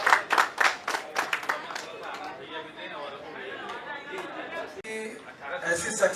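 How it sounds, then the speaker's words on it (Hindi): Audience applause at an awards ceremony in India: a burst of sharp claps at the start that fades into crowd chatter, with clapping rising again briefly toward the end. "गुजारिश करूंगा डॉक्टर साहब के लिए एक जोरदार तालियां"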